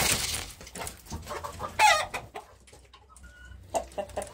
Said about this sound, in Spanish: Aquí tenemos el gallo Prieto.